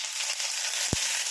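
Onion fries in hot oil for jalpai daal, a dense, even hiss of sizzling close up, with a single soft knock partway through.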